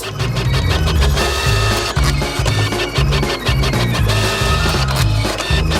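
A pancake printer whirs and clicks in quick repeating bursts as its motors step back and forth, loud and close, with no talking.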